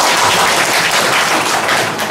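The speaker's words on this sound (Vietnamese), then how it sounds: "When I go like this, clap." Audience in a church training session clapping together on cue, a dense steady wash of many hands filling the room for about two seconds with no talking.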